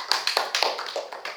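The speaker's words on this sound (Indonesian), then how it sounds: "Tepuk tangan untuk Dinda." A class applauds a student in a physics lesson on elasticity, giving a short burst of quick, fairly close hand claps in an uneven patter.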